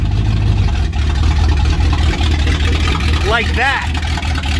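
A 1993 Chevy K1500 pickup with a new engine runs steadily in gear, a loud continuous low rumble that fills the clip while someone talks over it.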